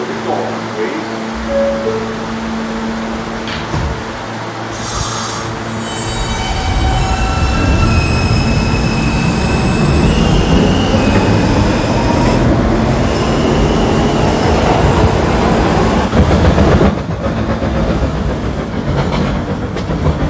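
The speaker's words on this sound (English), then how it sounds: "This is a Rentar Plaza bound K train via the B line." In a Roblox game, an R160A subway train rolls along with a steady rumbling roar, wheels clattering on the track and a brief high screech, while a voice speaks over it.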